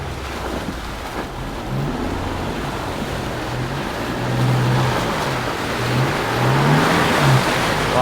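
A 4WD driven flat out through a muddy bush track at night, its engine roaring and surging steadily under a continuous wash of rushing noise from mud and water, loud and close throughout.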